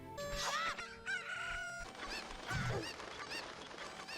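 A rooster crows and chickens cluck in a busy Zelda: Ocarina of Time soundscape, with other chirpy electronic tones layered around the calls.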